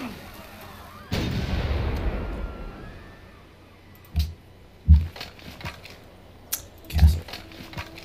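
Artillery barrage sound effects from the Civilization 5 strategy game: a loud booming volley with a long rumbling tail, followed by several shorter thuds and impacts spaced a second or two apart.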